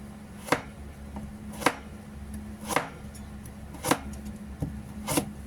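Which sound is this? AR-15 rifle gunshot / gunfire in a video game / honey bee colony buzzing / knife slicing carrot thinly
knife slicing carrot thinly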